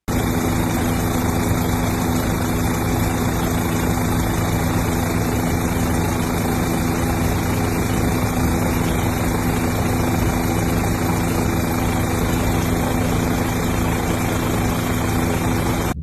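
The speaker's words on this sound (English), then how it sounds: "Helicopters from Big Sky Helitack could be seen dropping ignition spheres along the shoreline" Firefighting helicopters from a helitack crew fly over a wildfire along a shoreline in Alaska, dropping ignition spheres; a steady, loud rotor and engine drone fills the whole stretch without a break, with no talking.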